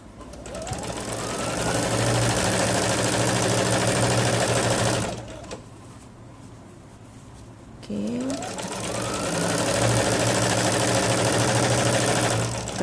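An electric sewing machine stitches palazzo trousers in a fast, steady mechanical whir. It runs in two long bursts separated by a short quiet pause, close and loud, with no voices.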